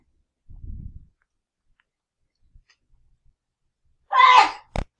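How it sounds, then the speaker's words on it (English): One woman gives a sharp, close sneeze near the end, preceded by a soft low rustle and followed by a quick click, with long near-silence between. "Mom sneezed."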